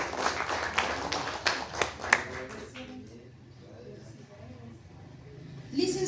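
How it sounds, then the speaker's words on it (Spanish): Applause from a crowd at an award ceremony, with dense clapping for about two and a half seconds that then fades out, leaving a quiet room. "Un fuerte aplauso."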